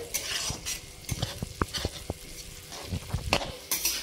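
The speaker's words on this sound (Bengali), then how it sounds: "কাজু কিশমিশ আমি ভালো করে ভেজে নিয়েছি" Cashews and raisins frying in a pan, with a light sizzle under repeated stirring strokes and utensil taps against the pan, close and moderately loud.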